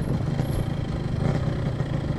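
A Yamaha RX King two-stroke motorcycle engine runs with a steady, buzzing drone, loud and close, with no talk over it.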